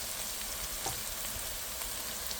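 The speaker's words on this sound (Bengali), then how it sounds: "একটু তেলের ভিতরে ভেজে তারপরে পেঁয়াজটা দিয়ে ব্রাউন কালার করে নেব" Onions frying in oil for a potato and meat curry: a continuous, even hiss of sizzling, faint and steady throughout with no distinct bursts and no voices.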